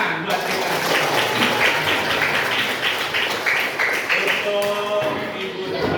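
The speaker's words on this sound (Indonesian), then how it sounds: "Ya, tepuk tangan buat kita." Classroom pupils applauding at the end of a lesson, a dense burst of clapping lasting several seconds with a voice talking over it.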